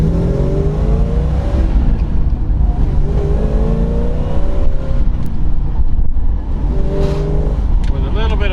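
The 1967 Plymouth GTX's 440 V8, a 375 hp four-speed car, runs loud and close with a deep rumble and several rising revs.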